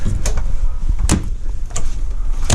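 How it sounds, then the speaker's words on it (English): A mirrored closet door slides along its track inside a 2019 Wildcat 32TSX RV, giving several short, close rolling scrapes and soft knocks against a steady room hum, with no talk. "Got this mirrored closet door."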